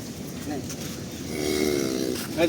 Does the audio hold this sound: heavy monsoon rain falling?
no